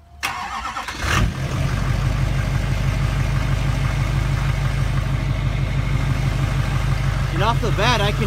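A Duramax diesel pickup truck fitted with a FASS lift pump cranks briefly, fires and settles into a steady, loud diesel idle that runs right through to the end, with no talking over it.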